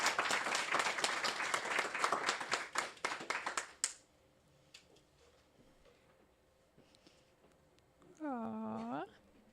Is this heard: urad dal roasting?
no